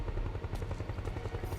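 Helicopter in the video game Metal Gear Solid 4, its rotor thumping in a fast steady pulse with a loud low drone, alone for a brief stretch.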